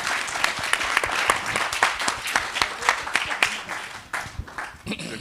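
Audience at an international communities round-table panel applauds the panelists, a dense, steady burst of clapping across the whole stretch with some voices mixed into the crowd.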